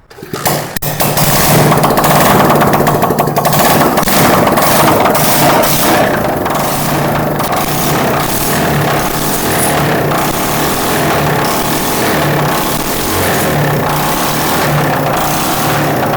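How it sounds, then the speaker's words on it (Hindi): A motorcycle engine kicks into life and settles into a loud, steady, rapidly pulsing idle that rumbles on without pause. "अभी बाइक को स्टार्ट करके इसका साउंड जो है इंजन का वो भी चेक करते हैं।"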